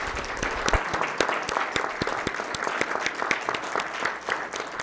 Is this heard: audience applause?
yes